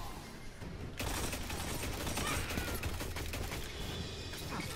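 Loquitor IV fire in a Destiny 2 Crucible match, a dense run of rapid shots that starts abruptly after a second and keeps going with a continuous, loud, sustained clatter to the end, no voices.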